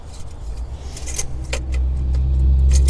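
A truck engine idles warm with a steady, deep rumble that swells slightly toward the end, while metallic clicks and jingling keys sound up close during a pre-trip inspection.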